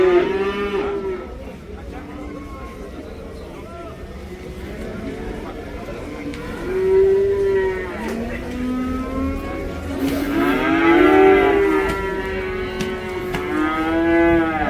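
Cattle low repeatedly at a Karabulak livestock market, with several long moos from different animals, some near and loud, over steady crowd noise and continuous talk.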